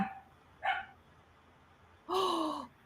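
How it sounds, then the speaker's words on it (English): A 9-week-old goldendoodle puppy gives two short, faint barks, a quick yip followed about a second and a half later by a longer, higher bark, against a quiet indoor background. "It's a 9-week-old golden doodle puppy"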